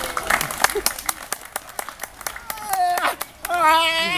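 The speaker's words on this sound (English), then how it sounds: "that's clapping to get the thing up here" Sharp clapping from a small group of people near a crocodile handler in Port Moresby, an irregular run of loud claps, with children's voices and other chatter mixing in toward the end.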